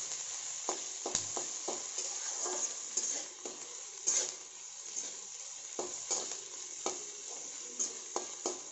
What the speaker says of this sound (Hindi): इसमें हम 2 कटे हुए हरे मिर्च ऐड करेंगे। और इसे भून लेंगे।